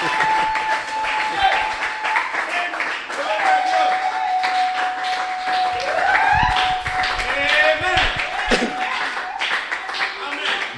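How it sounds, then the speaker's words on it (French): A church congregation at a revival service claps and cheers steadily and loudly throughout, with voices shouting and singing over the applause. "On acclame pour le Seigneur"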